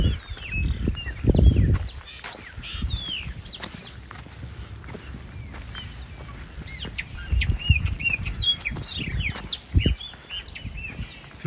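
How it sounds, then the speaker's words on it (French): A small bird sings in Vila Velha park with rapid, scattered high chirps and tweets throughout, fairly close, over a rumbling outdoor background with a few louder low bursts. "Il y a un petit oiseau qui chante,"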